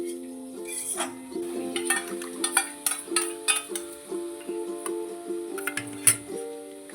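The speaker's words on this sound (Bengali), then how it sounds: "ভালো করে এটা মিশিয়ে নিই" A utensil clinks and taps against a bowl while ingredients are mixed, making irregular light knocks and scrapes over a steady tonal hum in the background.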